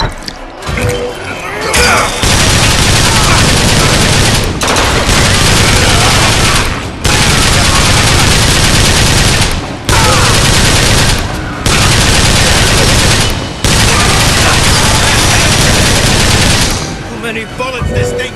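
Sustained automatic gunfire from Bioshock Infinite's Burial at Sea, loud, dense bursts of rapid shots filling most of the stretch, broken by a few brief pauses, with some voice mixed in.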